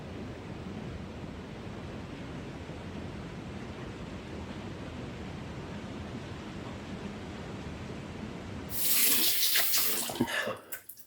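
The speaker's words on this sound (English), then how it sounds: "So let's rinse off real quick." Water runs from a tap as a razor and face are rinsed after a wet shave, a steady close hiss and splash, then louder bursts of water striking the basin near the end.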